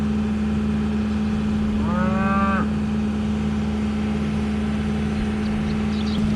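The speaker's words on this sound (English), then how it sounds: "you can see some of the calves out here" A single cow moos once, a short low call rising over a steady engine hum from nearby machinery, in a farm field where calves lie resting.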